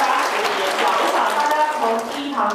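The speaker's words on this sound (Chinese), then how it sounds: "请各位先给郭总编一个热烈的掌声" Audience applause for a guest editor at the close of a lecture on digital editing, a steady, dense clapping that fills the room throughout with a murmur of voices mixed in.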